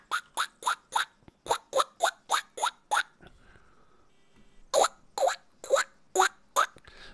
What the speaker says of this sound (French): C'est le bruit de la clé, ça